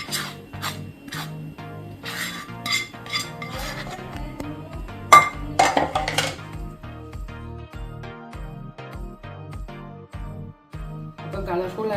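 Puttu flour being mixed by hand with a colourful mix in a bowl, giving close, repeated scraping and rubbing strokes with light clinks against the bowl, steady over several seconds with no talking.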